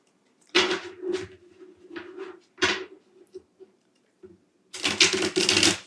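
Soft irregular flapping and clacking of tarot cards being shuffled up close, in short bursts, ending with a quicker riffling flurry.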